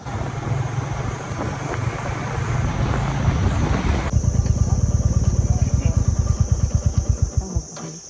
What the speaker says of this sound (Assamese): বাইকখন এতিয়া মই চলাই আছো